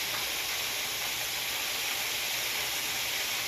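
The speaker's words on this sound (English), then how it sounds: "That's a chicken frying." Chicken frying in a pan for a home-cooked soul food meal, a steady, dense sizzling hiss that stays loud and even throughout, with no voices over it.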